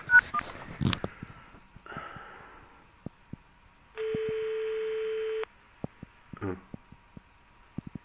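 A phone line during a redial gives a burst of dialing tones followed by one long steady tone, with scattered clicks and faint background sounds around it.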